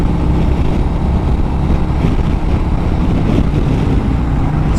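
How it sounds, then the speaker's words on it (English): Heavy wind buffets the rider of a 2021 Harley-Davidson Road Glide Special on a gusty day, a loud, steady low roar with the motorcycle's engine blended underneath. "It's very windy today."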